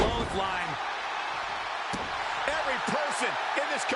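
A clothesline lands with a sharp slam in WWE 2K25, one hard impact amid crowd roar and arena noise, with a commentator talking over it.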